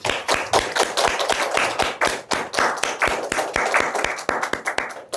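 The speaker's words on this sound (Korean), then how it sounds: "하나님께 영광의 박수 올립니다" A church congregation at a Wednesday worship service claps in praise to God, a fast run of crisp, closely spaced claps sounding alone and near.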